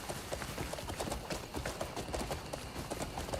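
Horse hooves clip-clopping in a steady, quick rhythm as a mount is ridden in the Crimson Desert video game, fairly faint against a busy background of game sound.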